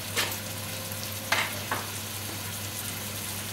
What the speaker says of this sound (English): So you want to brown these now for about 10 minutes